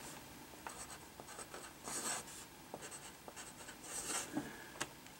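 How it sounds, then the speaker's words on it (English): Pen or pencil scratching numbers onto a Sudoku puzzle sheet, a run of short, quiet strokes and taps in irregular bursts, close and soft with no talking. "I'm going to clean this up a little bit and write down 2 or 3 for each of these"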